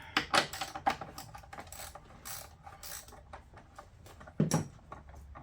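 Small 10mm bolts are tossed into a lid while servicing a 2008 Yamaha Drive G29 gas golf cart, with a few sharp metallic clinks and rattles close by, then light tool handling and a final clatter.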